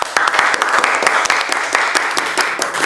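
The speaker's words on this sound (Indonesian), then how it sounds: "berikan tepuk tangan sekali lagi" Students in a classroom give a round of steady, dense applause after a group presentation, close and loud throughout.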